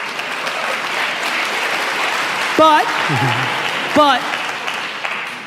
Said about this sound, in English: There's the parents clapping.